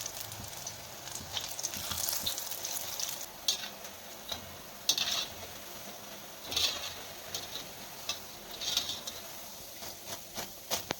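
Spinach bhajiya fritters deep-frying in hot oil, a steady broadband sizzle broken by sharp crackling bursts and occasional stirring clicks, close by with no voices.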